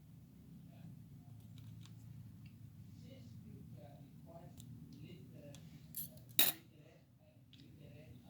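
Scissors cutting sewing thread, a single faint sharp snip near the end, preceded by soft handling clinks and a murmuring voice.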